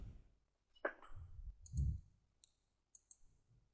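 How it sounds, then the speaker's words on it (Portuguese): A computer mouse clicking on a website banner, giving a few sharp, close clicks spaced apart over a quiet background with some low handling noise. "nesse banner você clica aqui"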